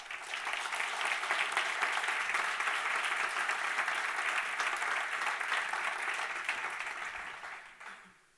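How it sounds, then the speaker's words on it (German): A conference audience applauds steadily for the forty honoured organisations at an award event, sustained dense clapping from a large crowd that holds for several seconds and then fades out, with no speech over it. "Insofern möchte ich Sie bitten, Ihren ersten Applaus an diesem heutigen Tag für diese 40 Organisationen zu geben."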